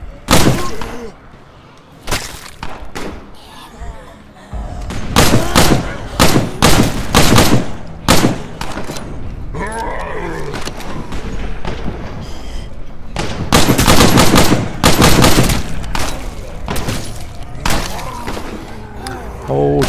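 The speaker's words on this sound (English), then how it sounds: "This is also good firearms training, so I can level up my character's shooting abilities." Gunfire from the video game State of Decay rings out in sharp, loud bursts, with single shots and rapid strings of fire spread irregularly across the whole stretch.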